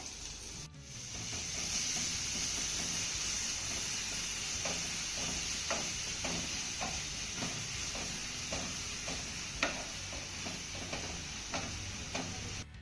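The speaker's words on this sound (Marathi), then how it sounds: "यामध्ये आपल्याला एक उभा चिरलेला कांदा घालायचा आहे यामध्ये आपल्याला अगदी थोडंसं मीठ घालायचं आहे आणि कांदा छान असा मौसूत होईपर्यंत परतून घ्यायचा आहे" Sliced onion with a pinch of salt sautéing in oil in a pan: a steady bright sizzle runs throughout while a spoon taps and scrapes in quick irregular strokes, close up, no voices.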